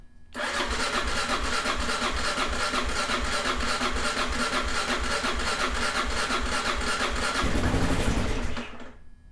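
A Kawasaki KLR650 motorcycle that sat for four years starts up and runs, a loud, steady single-cylinder chug that holds close by for several seconds, swells briefly near the end, then cuts off.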